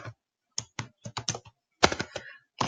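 Typing on a computer keyboard in short bursts of quick, close clicks separated by brief pauses, with a denser flurry of keystrokes near the end.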